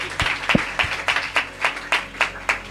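A church congregation at a prophetic service clapping in a steady rhythmic beat, about ten crisp, even claps close by with no talk.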